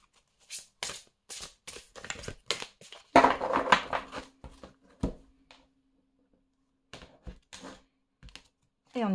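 Large oracle cards are handled and shuffled, giving sporadic close papery flicks, slaps and riffling bursts separated by quiet gaps.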